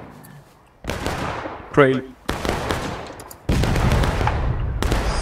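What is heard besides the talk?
gunfire at a Civil War reenactment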